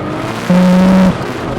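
A 1900hp Nissan GTR spins its wheels on a street drive, a half-second howl of engine and tire that rises sharply above the steady road noise and then drops away.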